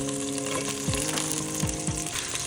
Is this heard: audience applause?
no